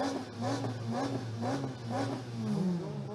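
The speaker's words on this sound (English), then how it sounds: "Well, the revs are up, and Andrew Rackstraw will have second bite" Formula Libre racing car engines rev on the grid before the start, rising and falling in repeated pulses, with one engine climbing sharply near the end, heard from a moderate distance.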